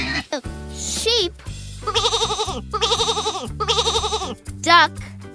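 Three quavering sheep bleats in quick succession over a musical backing, with short sung or spoken interjections before and after, in a children's farm animal song.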